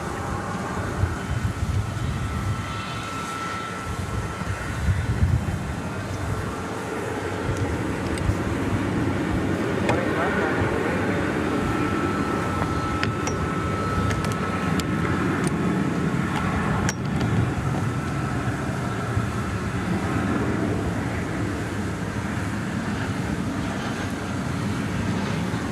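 An American Airlines jet takes off at Dallas Fort Worth airport in the evening, a broad, sustained engine roar that holds loud and steady for over twenty seconds, heard from a distance without talk.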